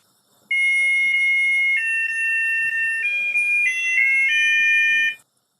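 A musical egg timer sitting in water plays a continuous electronic tune, loud and clear, a string of shrill stepped tones lasting about five seconds and then cutting off abruptly.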